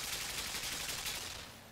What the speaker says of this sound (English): a wooden box is the best defense against a machine gun turret.